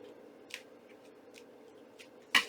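Several sharp scissor snips, spaced irregularly, cutting paper for a mini journal, with a louder final snip over a quiet hum.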